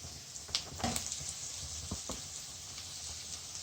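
Meat sizzles in a hot pan, a soft steady hiss broken by a few sharp crackles and pops, with no talking.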